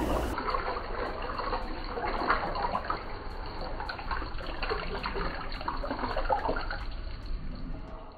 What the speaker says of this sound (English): Pour all the water in the pot.